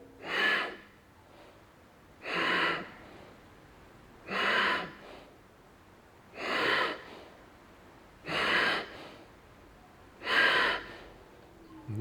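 Forceful kapalabhati yoga exhalations pushed out through the nose, six sharp breathy bursts at an even two-second rhythm, close and clear with quiet pauses between.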